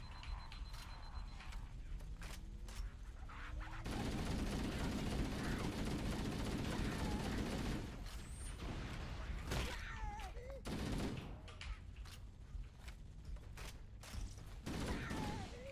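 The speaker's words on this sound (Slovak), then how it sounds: "To ty strieľaš" Rapid bursts of automatic gunfire and weapon mechanisms crackle through Halo: Combat Evolved gameplay, dense and loud in several volleys separated by short gaps, with players talking over the action.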